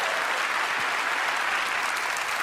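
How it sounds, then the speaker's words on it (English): A studio audience at a magic show gives steady, full applause for a volunteer, a continuous wash of clapping from many hands with no pauses. "Give him a round of applause for volunteering."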